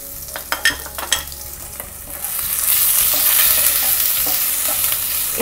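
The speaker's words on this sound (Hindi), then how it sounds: "और जैसे ही जीरा अच्छी तरह से पक जाए हमें इसमें डालना है ये बारीक कटी हुई अदरक और हरी मिर्च।" Finely chopped ginger and green chillies hit hot oil with cooked cumin for dal makhani. A few stirring clacks come first, then a loud, steady sizzle of frying fills the pan, close up with no talk.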